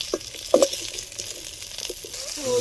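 Curry leaves fry in a pan. A soft, steady sizzle hisses under a few light stirring scrapes.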